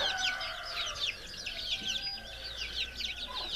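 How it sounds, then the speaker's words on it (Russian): Month-old naked neck chicks peep in a steady high chatter around their broody hen, with soft clucking and a few bird calls nearby outdoors. "Вот банда с курицей ходит."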